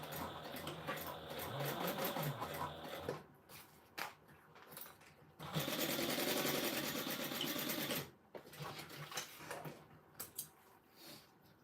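A sewing machine top stitches a Gabriella handbag, running in steady close bursts and stopping in between, with a longer continuous run in the middle and small handling noises during the pauses.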